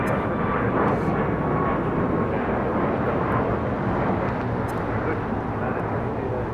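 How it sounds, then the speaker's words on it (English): A United Boeing 737 MAX 9 departing LAX for Houston gives a steady, broad jet-engine roar from a distance, even and continuous throughout. "2377 taking off to Houston Intercontinental on a MAX 9"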